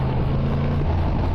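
A 2023 Yamaha MT10 with a Woolich remap, running in fifth gear at low RPM at about 40 mph, making a close, steady, low engine drone mixed with wind rush.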